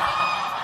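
White geese honking at a cathedral, a dense, continuous chorus of overlapping loud calls from a flock with no pauses.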